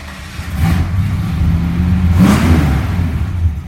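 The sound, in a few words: 1966 Plymouth engine starting and revving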